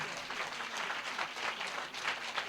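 Continuous crowd applause at a church service rolls on evenly and fairly close throughout.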